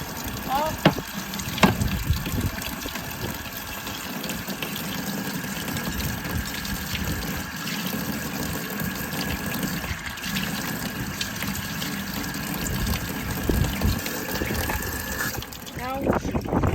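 Running water rinses small engine carburetor parts during cleaning, a continuous splashing gush from a tap or hose with scattered clinks, while faint voices murmur underneath.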